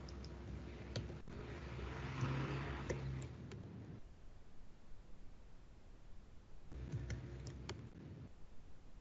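Computer keyboard keys tapped in short bursts for Control-C and Control-V copy-and-paste shortcuts between notification emails, soft quiet clicks over a faint steady hum, with a pause in the middle.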